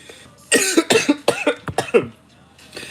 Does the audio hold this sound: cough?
yes